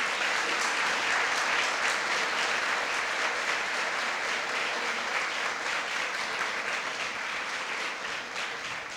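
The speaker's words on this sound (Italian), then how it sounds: "vi chiederei un grosso applauso per loro" Steady, dense applause from an audience at a multiple sclerosis information talk in Porto Viro, sustained and loud throughout without a break.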